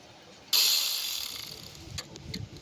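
A ratchet wrench removes the top bolt of the AC compressor on a 2008 Honda Accord, with a sudden loud metallic burst followed by fading clicking and ratcheting.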